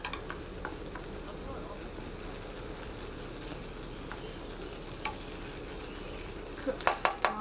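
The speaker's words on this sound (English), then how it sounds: "cook my hash brown. So that it's nice and crispy" A hash brown fries on a camping stove outdoors at a festival, a faint sizzle under soft background noise, with a few scraping and clinking utensil sounds near the end.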